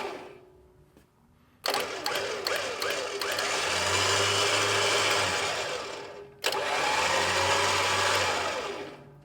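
A Warn 12,000 lb electric winch runs under power, a steady loud whirring motor drone starting abruptly, holding for several seconds, pausing briefly, then starting again close by.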